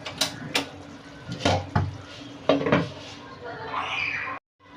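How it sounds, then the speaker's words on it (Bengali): Khalisa fish curry stirred in a pan, a spoon scraping and clinking against the metal in several short, close bursts, with a softer steady sizzle and a final brief scrape before it cuts off. "মাছ রান্না শেষ, এবার একটু নেড়ে উঠিয়ে ফেলব"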